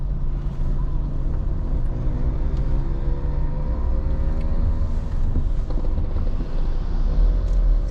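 Motorbikes ride around Orange Bay in Hanover, Jamaica, with a close, steady engine drone and shifting rev tones under constant wind rumble throughout.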